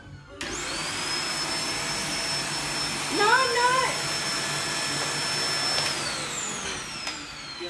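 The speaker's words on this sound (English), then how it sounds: "I need to vacuum the house." Household vacuum cleaner running steadily and fairly loud indoors, with a high whine throughout and a brief rise midway, while people talk over it.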